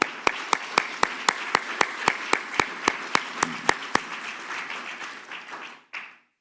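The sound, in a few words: audience applause for Garson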